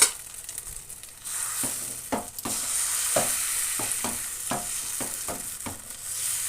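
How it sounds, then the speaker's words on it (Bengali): Beaten egg batter for an omelette curry frying in hot oil in a pan, a steady bright sizzle with repeated spatula scrapes and taps against the pan, close and without talk. "এবার বাকি যেটুকু ডিম রয়েছে সমস্ত অংশটাই আমি ঢেলে দিলাম।"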